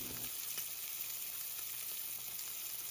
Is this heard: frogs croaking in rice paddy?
no